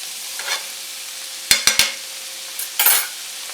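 Food sizzling in a frying pan during omelet making, a soft continuous sizzle broken by a quick burst of three sharp utensil clacks and a louder flare of crackling near the end.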